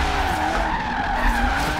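A tire skid from a drifting Corvette in the Forza Horizon 3 racing game, a sustained loud squeal layered over a revving engine drone for about two seconds, with no voices.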